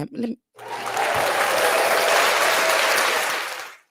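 A brief spoken word gives way to a sustained burst of crowd applause that swells quickly and holds for about three seconds before tapering off.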